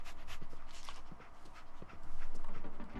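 Dogmeat, the dog in Fallout 4, pants and sniffs in quick rhythmic breaths, close and fairly loud, with light footfalls in the background.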